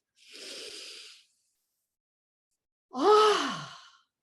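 A deep meditative breath: a soft airy inhale, a pause of silence, then a longer, fuller exhale with a faint voiced sigh, close and alone.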